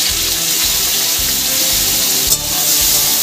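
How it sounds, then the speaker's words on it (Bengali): Carrot pieces fry in hot oil for a vegetarian fried rice, a loud constant sizzle with soft scraping stir strokes recurring underneath and no talking. "এবার আমি গাজরগুলোকেও ভেজে নেব।"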